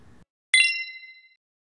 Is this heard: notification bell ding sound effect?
yes